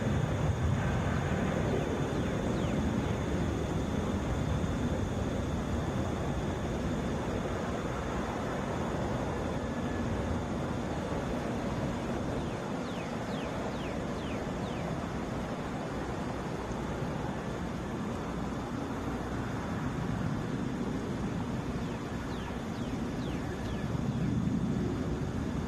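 A Delta Boeing 737 arriving from Columbus touches down at Atlanta International Airport, heard as a steady, broad roar of jet and rushing air with wind buffeting the microphone, sustained without a break and without talk.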